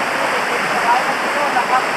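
Lan Rak waterfall in Nakhon Nayok, Thailand, pours in a steady, loud, broadband rush of falling water that stays constant throughout without pauses.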